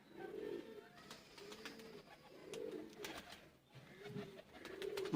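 Teddy pigeons coo close by in a rhythmic series of soft, throaty calls, one after another, with no one talking over them.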